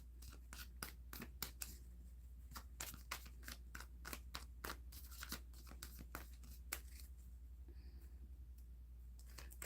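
A quick run of light, papery clicks and flutters, like a deck of cards being shuffled close by, quiet and uneven, with no voices.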